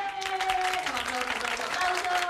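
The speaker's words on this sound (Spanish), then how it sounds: "Gracias por los aplausos" A studio audience claps for a Spanish-language comedy monologue show, a dense burst of applause filling the whole moment while a voice talks over it.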